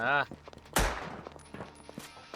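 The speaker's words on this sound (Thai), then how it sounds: "เขายิงกันแล้ว" Gunfire in the shooter game Black Stigma: one sharp, loud shot cracks out after a brief voice, followed by several fainter, scattered pops and clicks.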